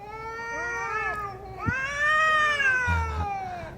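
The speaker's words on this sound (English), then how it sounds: "These cats!" Cats meow in loud, drawn-out wails, several overlapping cries rising and falling close by, with a brief thump in the middle and no talking.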